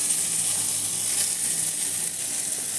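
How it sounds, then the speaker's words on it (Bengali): Bitter gourd fries in a pan of oil with a steady, dense sizzle that stays close and fairly quiet throughout, with no voices over it. "এখানে উচ্ছে ভাজা বসিয়েছি"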